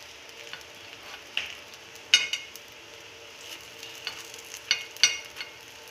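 Paniyaram sizzle gently in a pan while a ladle turns them, soft steady frying hiss broken by several sharp metallic clicks and scrapes, close by, with no talking.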